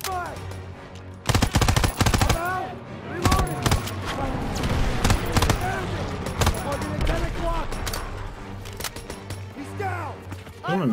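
Bursts of machine-gun and rifle fire in the Call of Duty WWII video game, loud sustained volleys mixed with crashes and shouting voices over game music.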